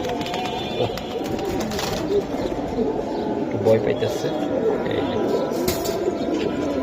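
Pigeons, including a cooing female, murmur in low, throaty coos throughout while someone talks over them nearby.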